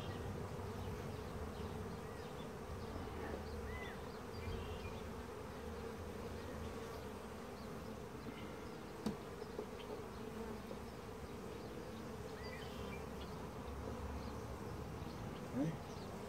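Bees swarm around an open museum hive, a steady, dense buzzing drone that stays level throughout, with occasional closer individual buzzes and a couple of faint clicks.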